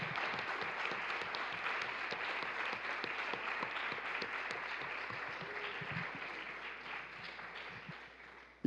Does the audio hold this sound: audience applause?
yes